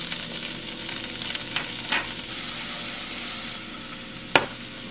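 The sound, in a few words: chopped yellow onion frying in a little oil in pan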